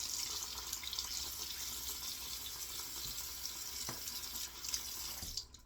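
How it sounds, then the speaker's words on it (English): A shaving brush is rinsed under a running tap, a steady hiss of flowing water splashing into a sink with small changes as the brush moves, ending abruptly. "I'm rinsing the brush out now"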